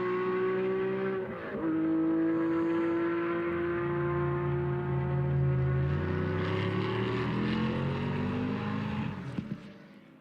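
A race car screams through turn 3 at the Red Bull Ring during a DRM Revival race, its engine note holding a loud, steady harmonic whine that dips briefly near the start, then rises and falls as another car joins before fading.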